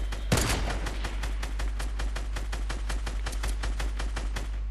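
Rapid assault rifle fire in the Fortnite battle royale game, a sustained burst of evenly spaced loud shots lasting several seconds, with no talking.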